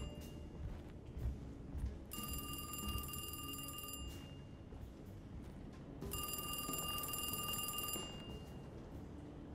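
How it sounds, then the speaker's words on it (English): A telephone rings in the horror game Alone in the Dark, two long bright electric bell bursts separated by a pause, over a low ambient game drone. "Answer the phone."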